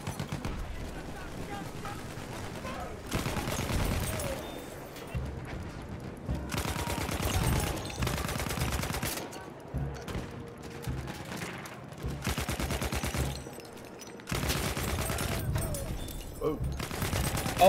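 Heavy gunfire and explosions in the Battlefield 1 video game, with a rocket gun firing, dense bursts of shots and blasts cycling loudly throughout while game noise and effects fill the background.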